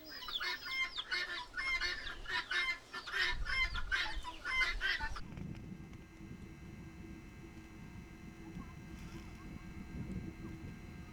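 Chickens cluck busily and close by beside a small clay chicken coop, several birds overlapping for about five seconds before the clucking gives way to a low, steady outdoor rumble.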